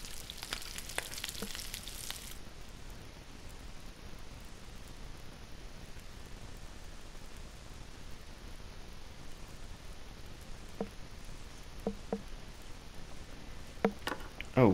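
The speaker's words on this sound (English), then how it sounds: "Cooking up all this meat." Meat cooking in the video game The Long Dark: a faint, even sizzle held throughout, with a brief brighter burst at the start and a few soft clicks near the end.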